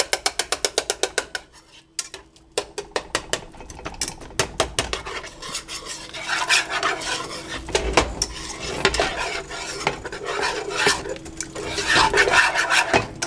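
Cheese sauce with milk is stirred in a pan over medium heat for BBQ nachos, with a rapid train of metallic scraping strokes at first, then continuous close scraping and rubbing.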